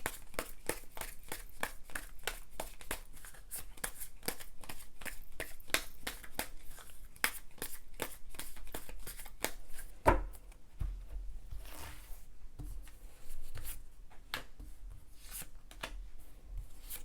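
Tarot cards shuffled by hand in fast, dense flicking riffles that run steadily for most of the stretch, close and moderately loud, then break into looser, scattered card slaps near the end.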